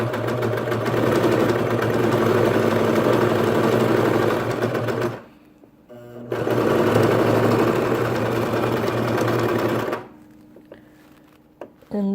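A sewing machine stitching a wool mitten liner runs in two long, loud, steady whirring bursts, each about five seconds, separated by a brief pause, then stops with a few faint handling clicks.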